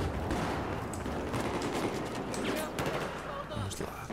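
Bursts of rapid gunfire in Battlefield 4 crackle densely over a noisy background, with a voice talking underneath the shooting.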